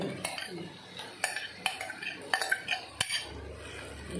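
Chicken goes into hot oil in a pot for chicken do piaza, followed by close metallic clinks and scrapes of a spoon stirring against the pot in uneven bursts over a soft background.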